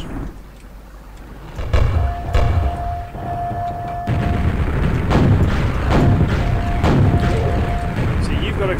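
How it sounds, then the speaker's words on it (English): Grenade launcher explosions in the Quake video game: repeated deep booms and thuds with game effects over a constant rumble, while players talk over the action. "See, you've got a grenade launcher."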